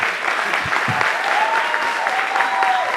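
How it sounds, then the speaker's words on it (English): A church congregation claps together in a dense, continuous burst of applause, steady and fairly loud with a faint tonal ring running underneath. "So I'd like us to clap our hands one more time like we are actually excited."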